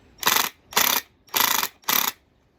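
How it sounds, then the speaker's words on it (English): Four short, loud bursts of rapid rattling hammering from an impact driver driving a screw into wood, evenly spaced with brief pauses between, close by. "That noise you hear is the drill, or not the drill, the impact impacting in the screw."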